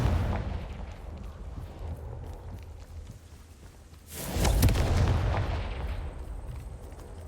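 A Confringo fire spell blasts in the video game Hogwarts Legacy, giving a sudden loud explosive burst over a rumbling battle background, then a fading roar.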